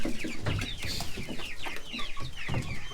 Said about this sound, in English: Look, there's some little dark Brahmas in here.